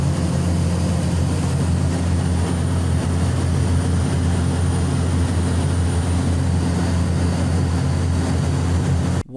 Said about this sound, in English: even the engine noise proved useful since it prevented us from chatting